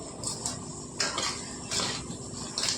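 A spoon scrapes and clinks against a pan as chili powder fries in oil for an okra and tomato pulusu, with three or four distinct stirring strokes over a low background hiss and no voices.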